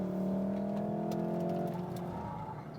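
A Mitsubishi Lancer Evolution IX engine roars at high revs in second gear with the throttle floored, its pitch holding strong and then dropping slightly as the gear changes, loud and close with no talking.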